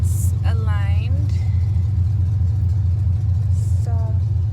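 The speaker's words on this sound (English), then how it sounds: "Came to test out the truck, and it's aligned." A truck on a test drive after a wheel alignment gives off a steady low engine rumble throughout, with voices talking briefly over it inside the cab.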